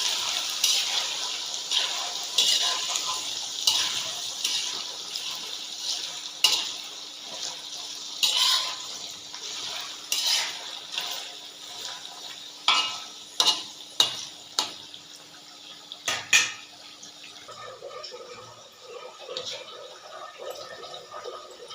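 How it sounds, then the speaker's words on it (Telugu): Chicken pieces for pickle fry steadily in oil with a continuous bright sizzle and crackle, broken by occasional sharp pops and scrapes near the end. "ఇందులోని నీరంతా పోయి ఆయిల్ పైకి వచ్చే వరకు వేయించుకోవాలి"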